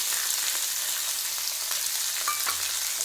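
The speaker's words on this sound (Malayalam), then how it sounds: "ഇതിലേക്ക് ഒരു രണ്ട് സവാളയും ഒരു നാല് പച്ചമുളകും കൂടെ ചേർത്ത് കൊടുക്കാം" Sliced onions and green chilies fry in a hot pan, a steady dense hiss and crackle of sizzling oil with occasional faint stirring clicks, continuous and close.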